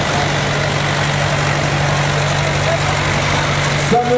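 A vintage American-built Allis FD3 tractor engine runs at a steady idle, loud and close with a constant low throbbing drone, and a voice speaks over it near the end.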